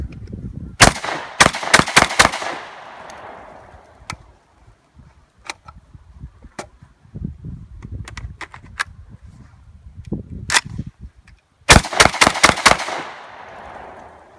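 Catamount Fury semi-auto shotgun, a Saiga 12 clone, fired outdoors in rapid strings of sharp, loud blasts, one burst of about five shots early, scattered single shots mid-way, then another quick volley, with handling clatter and faint chatter between.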